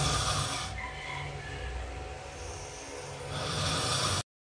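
Someone snoring at Abaksa Beach Resort in Lemery, Batangas, giving a rough, breathy snorting rasp that runs steadily for about four seconds, with no talking, then cuts off abruptly.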